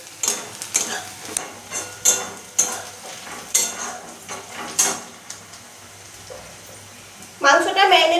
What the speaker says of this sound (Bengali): কষিয়ে নিচ্ছি, ভেজে নিচ্ছি।